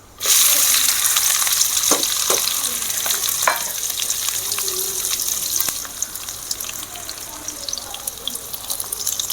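Onion dropped into hot oil already holding cinnamon and dried chili for a drumstick stir-fry, with a sudden loud burst of sizzling that stays strong and hissing, then settles a little, broken by occasional crackles.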